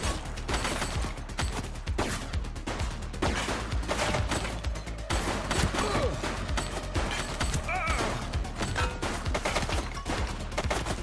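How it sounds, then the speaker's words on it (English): Gunfire in The Precinct video game bursts in rapid, dense volleys of sharp cracks, loud and continuous, mixed with crashes and clatter while voices shout in the background. "Shots fired!"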